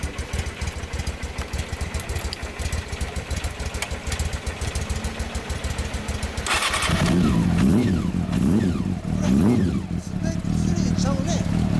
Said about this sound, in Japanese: スーパーフォア、はい、エンジンを聞かせてもらいます